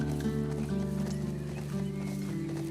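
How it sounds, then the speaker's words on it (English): Horse galloping at top speed in The Last of Us Part II, a rapid rhythmic hoofbeat patter with a brief whinny, steady and mid-distance throughout. "This is the horse's maximum moving speed."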